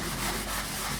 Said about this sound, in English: I sand it down